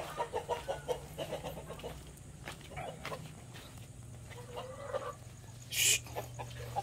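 Loose backyard chickens cluck in a garden, short rhythmic bursts up close at first, then quieter scattered calls, with a sharp hiss-like burst near the end and no talk.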